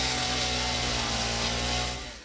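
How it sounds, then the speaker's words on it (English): Chainsaw hacking through leaves in the video game Satisfactory, a sustained buzzing whine with steady harmonic drone that holds evenly, then tapers off at the end, with no talking. "overkill using a chainsaw to hack up leaves"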